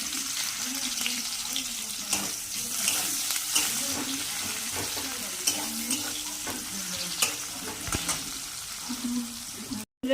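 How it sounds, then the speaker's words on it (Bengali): Steady sizzling of chopped onions frying in hot oil with cumin, with occasional stirring scrapes and a faint hiss throughout, no voices. "তারপরে দিয়ে দেবো হচ্ছে কুচানো পেঁয়াজ"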